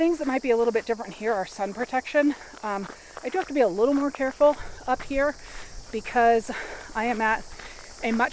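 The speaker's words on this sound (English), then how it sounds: "Sorry about the wind and the bugs. They're both making lots of noise right now." Crickets and other insects buzz in a thin, steady trill along a high-elevation forest trail, faint beneath a person talking throughout.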